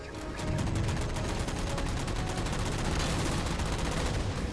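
Sustained rapid automatic gunfire in the video game Halo 4, shooting down Covenant jammers: a dense, continuous rattle of shots at steady loudness that runs almost the entire length without a break.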